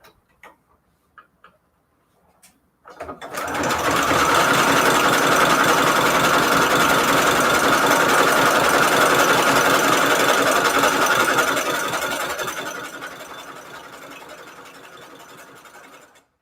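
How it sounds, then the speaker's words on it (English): A sewing machine stitches a zigzag seam through scrap paper, running loud and continuous for about eight seconds after a few taps, then slowing and fading out. "I'm going to use a zigzag stitch to get these sewn together."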